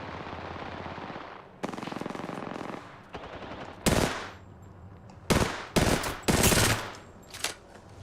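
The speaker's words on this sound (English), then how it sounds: "I am taking fire, friends." Video game gunfire: sustained automatic fire rattles continuously, then several loud, sharp bursts punctuate the last few seconds, with no talk.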